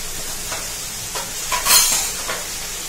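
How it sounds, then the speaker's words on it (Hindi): Ghee added to a hot pan while cooking a mirchi masala without onion, a soft steady sizzle with light scraping and clinks of a utensil against metal, rising briefly near the middle. "थोड़ा सा फ्लेवर के लिए हम इसमें डालेंगे घी"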